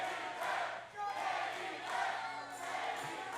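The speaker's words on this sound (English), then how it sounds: "I think this crowd is pumped up. I mean, listen to this. This is insane." A wrestling arena crowd roars loudly in swelling waves of cheering, dense and continuous from start to finish.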